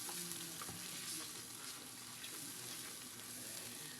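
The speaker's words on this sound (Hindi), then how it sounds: "और इसके साथ हम मसाले को अच्छे से हम भूनेंगे" Masala spices frying in a pan with whisked yogurt for beef paya (beef trotters), giving a steady, dense sizzle throughout with occasional stirring scrapes close by.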